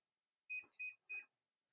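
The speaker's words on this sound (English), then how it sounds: "hopefully you can deal with those beeps in the background" A treadmill beeps three times in quick succession, short sharp electronic tones set against near silence, slightly distant in the background.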